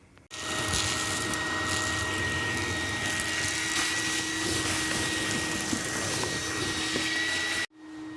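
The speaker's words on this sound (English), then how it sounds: "she's gonna vacuum this up" A vacuum cleaner switches on, whines steadily and loudly for several seconds, then cuts off abruptly.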